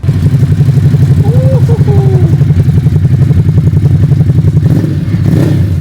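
A twin-cylinder motorcycle engine idles and revs close by with a loud, lumpy pulsing beat, steady throughout with a brief higher whine partway through.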